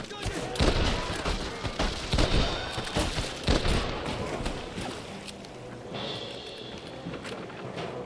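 Several sharp, loud gunshots crack in an irregular burst over busy game sounds in Red Dead Redemption, then the firing fades into quieter background noise.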